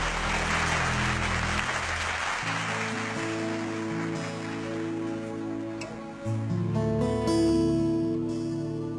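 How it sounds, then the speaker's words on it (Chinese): An audience applauds warmly to welcome a singer on a singing show, steady clapping that fades as music begins to build underneath. "掌声欢迎徐有林"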